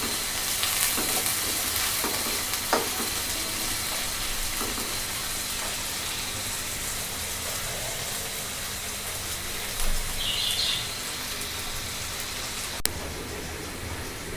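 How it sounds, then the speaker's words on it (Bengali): Onion, garlic and green chilies fry together in a pan, giving a steady, close sizzle throughout with a few light clicks of a utensil against the pan. "এগুলো সব একসাথে আমি ভেজে নেব এই ভর্তা করার জন্য।"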